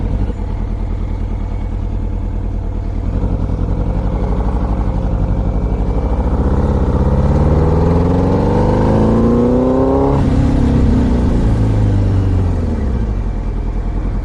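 A superbike engine revving loudly and close throughout, a steady roar that climbs in pitch through a long rising rev before dropping back, alone without talk.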